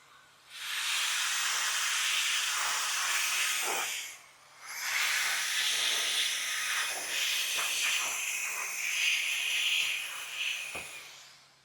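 A Fanttik B11 Apex cordless blower roars out a strong, airy hiss in two long blasts, a brief stop near four seconds between them, loud and close, trailing off at the end.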